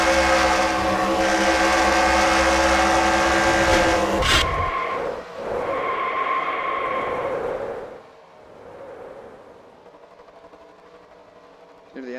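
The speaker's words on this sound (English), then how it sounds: "engine completely shutting off there" A NASCAR stock car engine in NASCAR Racing 2003 drones loudly with a steady harmonic whine, then abruptly cuts out around four seconds in, briefly catches again, and fades away into faint background noise.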